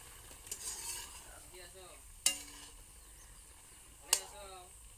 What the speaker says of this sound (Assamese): এতিয়া ঔটেঙা কেইটুকুৰা দি দিব আৰু অলপ লৰাই মিক্স কৰি দিছে।